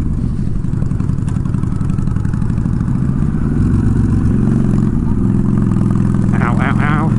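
A Honda Shadow motorcycle engine while riding and shifting gears, a loud close rumbling drone with changing pitch as the gears change, and a brief voice near the end.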